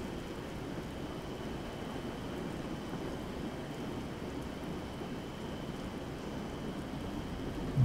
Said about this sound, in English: And it's a rainy day in Stafford.